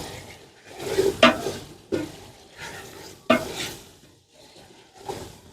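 Soaked chickpeas tipped into hot ghee in a pot for chana pulao and stirred, giving soft scraping strokes with a few sharp spoon knocks against the metal over a faint sizzle.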